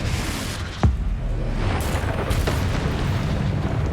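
In Hogwarts Legacy, a Confringo spell explosion lands as a short sharp burst followed by a rumbling, noisy boom that sustains under dense game effects.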